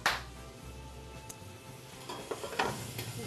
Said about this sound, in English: And then you just saute for about 6-7 minutes.